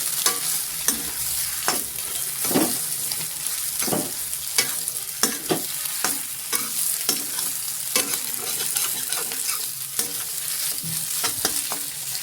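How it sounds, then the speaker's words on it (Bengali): A spiced filling frying in oil in a pan while a spatula stirs it, giving a steady close sizzle broken by regular scraping strokes against the metal, with no voices. "সেই জন্য আমি পুরটা একটু ভেজে নিচ্ছি"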